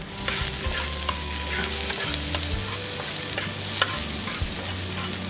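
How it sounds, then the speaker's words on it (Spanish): Sofrito of finely diced brunoise vegetables sizzles steadily in a pan while being stirred, with scraping utensil strokes and crackling frying close and continuous throughout. "Vamos a mezclar."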